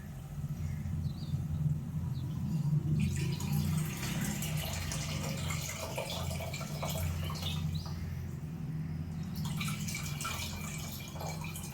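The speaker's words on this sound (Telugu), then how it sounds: "ఇప్పుడు చింతపండు రసం పోస్తుంది" Tamarind juice is poured into a cooking pot of fenugreek seeds simmering in oil for a tangy stew, giving a steady liquid splashing and trickling that swells after a quiet start and continues to the end.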